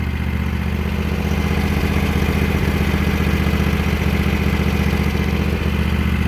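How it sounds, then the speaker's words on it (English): A Husqvarna TS 354XD garden tractor with a 24-horsepower Kawasaki engine idles steadily up close, its even, throbbing clatter holding a constant pace with no revving. "I just want to let it idle for a while, let it run before I put a load on it."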